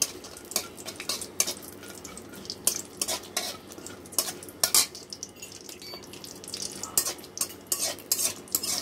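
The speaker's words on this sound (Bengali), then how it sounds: "সেই পুরের জন্য এখন আমরা পেঁয়াজটা ভেজে নিচ্ছি" Chopped onion fries in a pan for potol dorma stuffing, its gentle sizzle nearly buried under frequent, lively clinks and scrapes of a spatula against the metal.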